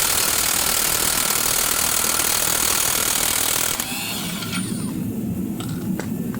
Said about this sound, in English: you're going to take your impact gun and you're going to hit